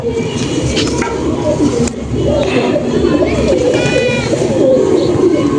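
Ordinary Madras pigeons are cooing close by in a loft, giving soft repeated low coos among cage rustling and a sharp knock, while people talk in the background.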